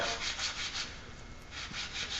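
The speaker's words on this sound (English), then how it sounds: "we're just taking the Parkerization off. Already starting to come off really good. And this sandpaper is a little fine" Fine sandpaper rubbing the Parkerized finish off a 1911 pistol hammer under light pressure, a close, steady rhythmic scratching in repeated back-and-forth strokes with no talk.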